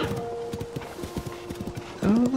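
Horse hooves clip-clop in a steady rhythm in The Legend of Zelda: Tears of the Kingdom, fairly close, under a game music tone, ending in a brief louder whinny-like burst.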